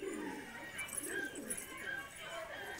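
A Vizag-breed pigeon from Andhra Pradesh coos softly at a distance, its low murmuring calls faint and partly lost in steady room noise.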